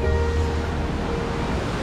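Water flows steadily in a river at Manakkadavu in Kannur, a continuous broadband rush close to the microphone, with some wind noise mixed in.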